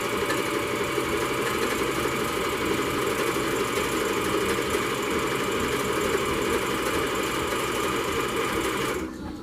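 A sewing machine running a straight stitch while a homemade medical mask is sewn, a steady close mechanical whir that continues without a break, then stops abruptly near the end.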